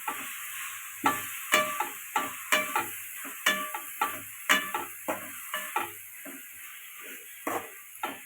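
Coriander leaves sautéing in a pan for a green chutney, with repeated stirring scrapes and clinks over a steady soft sizzle, close and fairly quiet, no talking.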